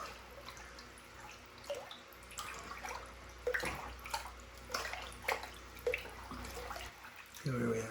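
Water is stirred in a hydroponic reservoir with nutrients being mixed in, giving soft sloshing and dripping splashes in uneven bursts, while a person talks quietly nearby.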